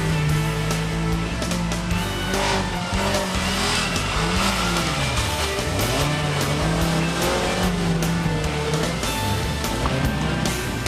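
A Suzuki Samurai off-road truck with a Sidekick engine and Toyota axles charges through a water hole at a truck challenge event, its engine roaring loud and continuous with rising and falling revs amid heavy splashing and rumble.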